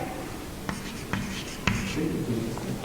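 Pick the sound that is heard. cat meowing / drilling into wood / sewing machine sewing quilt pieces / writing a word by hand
writing a word by hand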